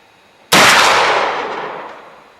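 A single loud rifle shot at an outdoor rifle range in Oregon, a sharp sudden crack followed by a long fading boom that rolls away over about two seconds, with no talk.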